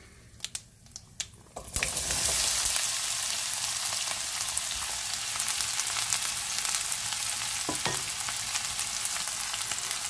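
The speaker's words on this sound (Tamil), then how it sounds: "இதுக்குள்ள வெங்காயத்தை போட போகிறேன்." Onions drop into a hot pan for vegetarian fried rice after a few light taps, then sizzle and fry in a loud, steady hiss with occasional stirring clicks, no voices.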